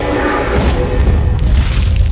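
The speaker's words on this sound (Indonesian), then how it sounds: "Lin muncul dari saluran pembuangan dan langsung menyerang Gluttony dengan memasukkan bom ke dalam mulutnya, yang mengakibatkan Gluttony pun meledak" A bomb explodes inside Gluttony's mouth in the Fullmetal Alchemist film, a loud, close, deep rumbling blast that fills the whole moment with no break.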